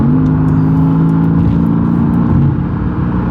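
Car interior while driving, a loud steady low engine drone with a constant hum and road rumble, no voices over it.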